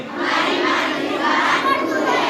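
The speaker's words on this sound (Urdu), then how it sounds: "یہ نعرے آپ بولتے رہنا" A crowd of children at a school Urdu Day event chants a slogan in unison, a loud continuous mass of young voices with no pauses.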